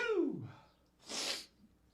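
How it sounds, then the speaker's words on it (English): A single human sneeze, a drawn-in breath sliding downward followed by a sharp, noisy burst, close and moderately loud with no talking. "I'm about to sneeze."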